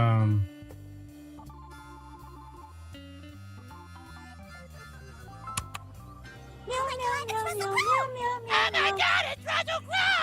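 A cat meows several times in a noisy pub over background music, with the higher, wavering cries getting louder and more frequent toward the end.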